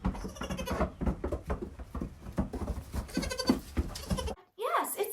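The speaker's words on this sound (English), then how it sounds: "this is what my goats sound like when they're walking in the barn" Goat bleats mixed with rustling and light hoof footsteps on a barn floor, heard close up and fairly loud, with brief pauses between bursts.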